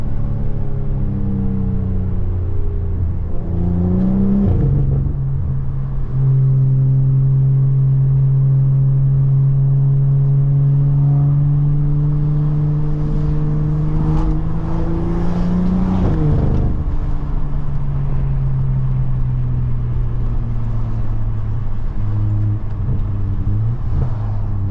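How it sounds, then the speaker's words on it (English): BMW F10 with big front-mount intakes revving repeatedly, a loud, close, deep engine drone rising and falling in pitch over sustained throttle, with no talk. "slapping on some big fat front mount intakes so we can get that noise"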